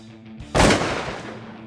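A single shotgun blast from a duck hunt over decoys in Idaho waterfowl country, a sharp loud report that trails off into a long outdoor echo.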